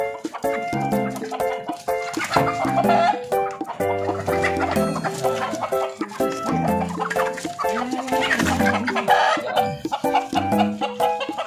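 A caught White Hats hen clucks and squawks in agitated bursts, close and loud, mixed with other fowl noises and scattered handling sounds throughout.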